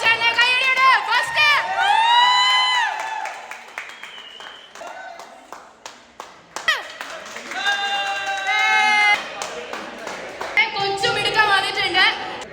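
An indoor gym crowd at an Onam celebration claps and cheers in bursts, with whoops and shouts rising over the applause, while an announcer's amplified voice speaks between the swells.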